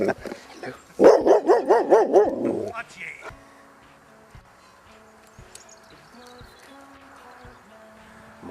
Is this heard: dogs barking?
yes